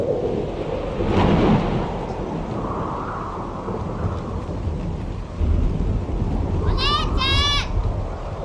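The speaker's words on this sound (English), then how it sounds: "It's raining pretty hard." Heavy rain pours steadily in the video game The Kidnap, with a deep roll of thunder near the start and a strong downpour throughout, a continuous loud hiss.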